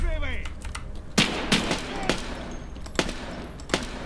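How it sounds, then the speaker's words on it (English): Gunfire in the video game Escape from Tarkov, several sharp isolated shots spaced irregularly over a low steady background hum. "There's still so much gunfire."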